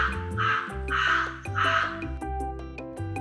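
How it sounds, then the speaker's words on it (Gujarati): A crow caws three times in loud, evenly spaced harsh calls, close by, with a pause after, over light background music. "કાગડો કા કા કરે."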